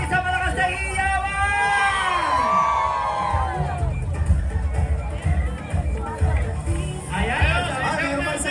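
At a grand civic parade and street festival in Pasig, Philippines, a crowd cheers and chatters in a continuous hubbub, with a voice speaking over it and vehicles passing.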